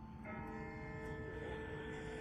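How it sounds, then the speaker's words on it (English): A distant bell tolls faintly in The Walking Dead video game, a sustained ringing tone that swells once and lingers over a quiet low ambient hum, with no speech. "That's not the same bell as before. This one's further off."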